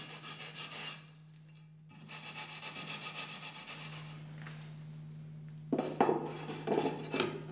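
The sharp edges of freshly cut glass for a small display cabinet are sanded in bursts of harsh, gritty rubbing strokes, close and fairly loud, with short pauses between passes over a steady low hum.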